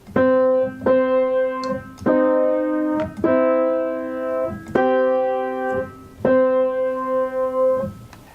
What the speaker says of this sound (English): And then we have the green intervals, which are relaxed, and they sound like this.